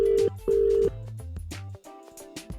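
Over a Bluetooth phone call, a pair of steady dialing tones sounds, then a ringback pattern of alternating low tones plays. Brief clicks and noise bursts break in between, all close and clear.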